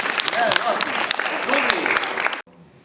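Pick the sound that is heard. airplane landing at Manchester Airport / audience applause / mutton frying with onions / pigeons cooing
audience applause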